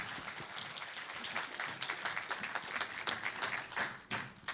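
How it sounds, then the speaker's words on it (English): An audience applauds at a student founder showcase at the University of Southampton, a steady, dense round of clapping from a crowd lasting several seconds at moderate volume. "Let's just one last round of applause."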